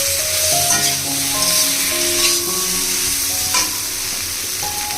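Ginger, garlic, cumin and onion paste frying in a pan, with a steady broadband sizzle and occasional stirring scrapes, close and continuous throughout, with some tonal background music over it.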